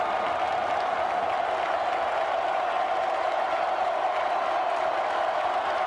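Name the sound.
stadium crowd cheering at college football game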